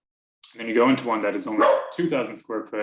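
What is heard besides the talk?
dog barking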